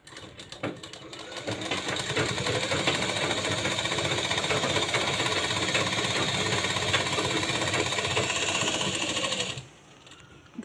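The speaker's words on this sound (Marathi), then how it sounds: "आता इथं आपण डबल शिलाई मारायची आहे." A sewing machine runs a double line of stitching along a blouse seam, a steady fast mechanical whir and clatter that holds at an even level for about nine seconds, then stops abruptly.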